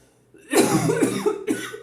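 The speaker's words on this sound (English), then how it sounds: "Sorry for my cough." A couple of harsh, close coughs, a longer bout followed by a short second cough, loud and alone with no talking.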